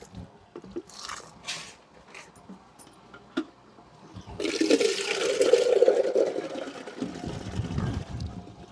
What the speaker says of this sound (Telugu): మా అమ్మగారు అయితే ఇప్పుడు వాటర్ వేయడం జరుగుతుంది